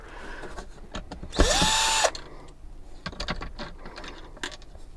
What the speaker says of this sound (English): take out these little file folder brackets, and that just takes your Torx bit